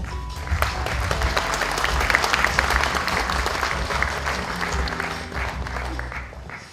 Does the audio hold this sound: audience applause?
yes